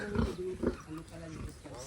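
Pigs on a Filipino farm grunting in a few short, low bursts close by, mixed with faint voices in the background.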